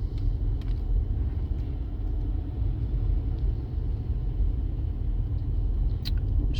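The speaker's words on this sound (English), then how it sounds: "I'm just driving through Pep Boys parking lot." A 2015 Ford Escape crawls through a busy parking lot, giving a steady low engine and road rumble from inside the cabin, quiet and continuous without any revving.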